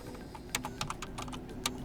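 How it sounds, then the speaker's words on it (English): Rapid keystrokes on a computer keyboard while a Linux terminal command is entered, irregular close clicks with a few sharper taps, heard alone without speech. "Basically by typing in sudo apt install"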